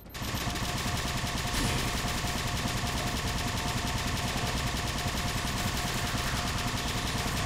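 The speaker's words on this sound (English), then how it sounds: "Give me this plasma cannon." Dense, unbroken automatic weapon fire in the Halo 4 video game, loud and continuous throughout, as a plasma cannon fires in a rapid, steady stream.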